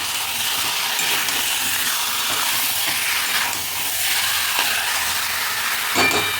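Food being stirred in a cooking pan, a steady broadband hiss and sizzle with scraping texture running throughout, close and fairly loud, with a brief clatter near the end and no talk.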